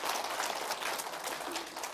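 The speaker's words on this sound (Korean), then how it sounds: "박수 한번 해주시기 바랍니다" A lecture audience gives steady applause after a Korean talk on preparing for a hundred-year life, dense and even for about two seconds at moderate loudness, with no voices over it.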